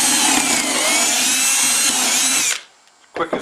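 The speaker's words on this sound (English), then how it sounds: "butt the Dowelmax up against it, drill the next hole." A power drill whines loudly and steadily for about two and a half seconds while boring a dowel hole with a Dowelmax jig in a wooden tabletop, then cuts off, leaving a brief silence before some knocks.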